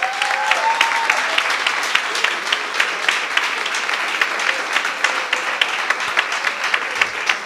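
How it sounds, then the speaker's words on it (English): Loud, close audience applause for the third-place finisher of a pitching competition at a business workshop in Umlazi, with sharp individual claps standing out above a continuous crowd clatter and a brief voice near the start. "One more time. A round of applause."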